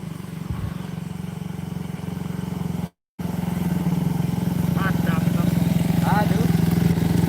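Motorcycles pass on a busy street, their steady engine drone and clatter running underneath throughout, with a brief cut in the middle and a few faint chirps near the end.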